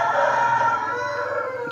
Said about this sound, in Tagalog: Huwag nyo nang pansin yung ansigaw ng manok dyan sa amin